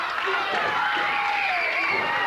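A wrestling crowd at a 1986 CWA Memphis event cheers and roars steadily in support of wrestler Tommy Rogers, a dense sustained wash of voices with no pauses.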